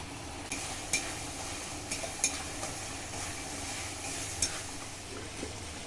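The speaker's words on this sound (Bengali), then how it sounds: "ভালো করে মশলা কষিয়ে নেব" Spices and mutton scrape and sizzle in a pan as they are stir-fried, a steady hiss under a handful of sharp spatula clinks spaced through the stretch, close by and with no talking.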